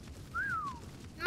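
A single short, rising-then-falling whistle rings out cleanly over a low background rumble, followed by a brief sharp burst of noise at the end.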